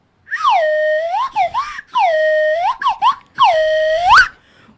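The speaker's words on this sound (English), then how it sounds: "Horn's dead, so we got the whistle back." A whistle blown at the start of a podcast-style show sounds loud and close in three long, warbling blasts broken by short chirpy trills, with no talking.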